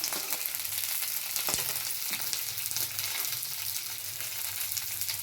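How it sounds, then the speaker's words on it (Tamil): Steady sizzling of grated coconut and ginger sautéing in a hot pan for a traditional gravy, a continuous crackle with a few sharper pops, close and fairly loud, no voices. "இந்த தேங்காய் இஞ்சியை நம்ம கடைசியில் அப்படியே போட்டு வதக்கி எடுத்துக்கலாங்க"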